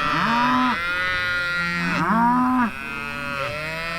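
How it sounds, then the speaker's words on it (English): A Mashona bull calf on open range moos repeatedly, three or four loud, close, drawn-out bellows with rising and falling pitch, alone with no talk. "There's a little bull calf"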